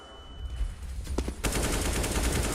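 Counter-Strike gunfire during a major championship final match, a couple of sharp isolated shots followed by a sudden, sustained burst of rapid automatic fire that stays loud to the end.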